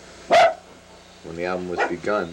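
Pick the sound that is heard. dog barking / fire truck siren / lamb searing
dog barking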